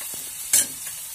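Tomatoes fry in a pan for a vrat thali, a soft continuous sizzle broken by one sharp stirring scrape midway.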